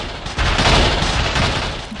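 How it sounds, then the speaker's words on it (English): A low, haunting roar drones steadily in the background of the video game Silent Hill 4, a dense rumbling wash that swells after a quarter second and holds loud and broad throughout. "you can hear a kind of roar in the background."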